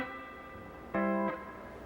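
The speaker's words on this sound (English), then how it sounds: "here's a front view of just popping the bar up by squeezing it. At first, it'll sound like this." A steel guitar bar popping up off the strings on an E9th pedal steel, one short bright chordal ring lasting about a third of a second amid soft sustained string tone.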